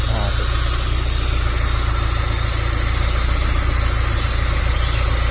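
The engine of a Honda Civic Genio idles steadily just after starting, a loud, close, even rumble with a constant low throb and no change in pace.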